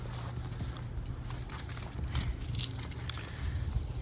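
A pair of keys for a 2003 car with 60,000 miles jingles and clinks in the hand, with brief metallic rattles scattered over steady low background noise.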